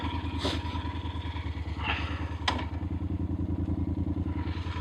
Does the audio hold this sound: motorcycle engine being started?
yes